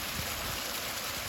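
Water flows steadily in a broad, even rush, faint and continuous, with no talk over it.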